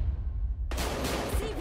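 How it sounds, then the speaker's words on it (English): Gunfire from the Battlefield Hardline video game trailer erupts suddenly after a quiet lead-in, a loud burst of shots under a dense roar of noise. "We've got gunshots."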